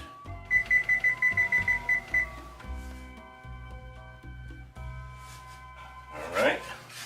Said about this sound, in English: Set the timer, 10 minutes.